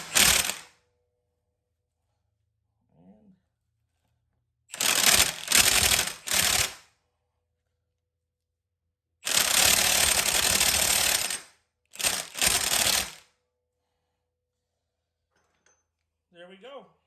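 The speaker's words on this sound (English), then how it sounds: "So with your 1/2 inch impact, go ahead and hold down to the sprocket" A 1/2 inch impact wrench drives a sprocket bolt on a Harley-Davidson chain drive kit, firing in several loud, harsh rattling bursts of one to two seconds each, separated by quiet gaps and a few faint clicks.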